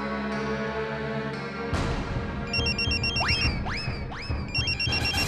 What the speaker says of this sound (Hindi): फोन मैं उठाऊंगा।